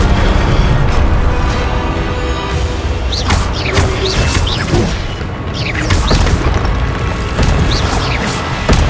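Incendio fire spell cast in the video game Hogwarts Legacy, loud booming fiery bursts and whooshing magic effects layered over dense game ambience, several hits in quick succession.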